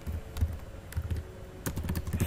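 Typing on a computer keyboard while entering an Excel data validation message, a steady close run of light clacking keystrokes with no speech.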